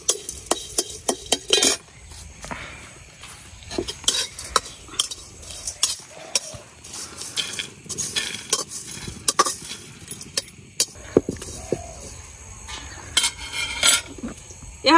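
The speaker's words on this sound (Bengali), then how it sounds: "এখন শুকনা মরিচ গুলা ভাইজে নিলাম" Dried red chillies fry in a pan amid frequent metallic clinks and scrapes of a spoon against the pan, with a faint sizzle underneath and uneven bursts of clatter over about fifteen seconds.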